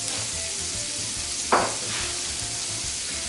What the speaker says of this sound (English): we are going to quickly saute our, our pancetta or bacon